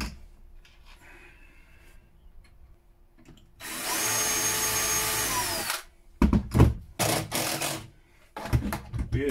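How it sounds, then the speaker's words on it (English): A power drill whirs loudly for about two seconds drilling pilot holes for hinge screws on a narrowboat, followed by short bursts of drilling and clattering, with quiet background noise before. "Pre-drill your holes, hold the hinges in position."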